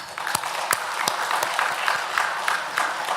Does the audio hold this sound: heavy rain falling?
no